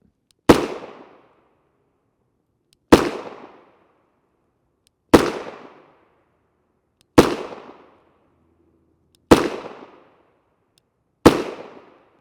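Six sharp, loud shots from a SAR USA pistol firing 9x19mm NATO 124gr FMJ rounds ring out about two seconds apart, each with a short echoing decay, with no talking.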